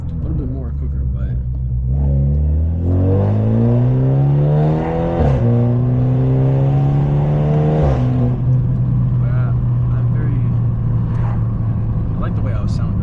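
A straight-piped, catless BMW 530 engine revs close by, its deep rumbling note climbing and falling across several throttle blips before settling into a steady loud drone, with voices now and then over it.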